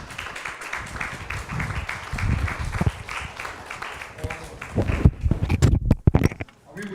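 Scattered, thinning applause at a conference, fading into shuffling and handling noises with a voice speaking toward the end.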